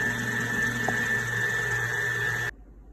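An electric mixer with a whisk attachment whipping cream into butter, a steady high-pitched motor whine with a churning rattle that cuts off abruptly near the end.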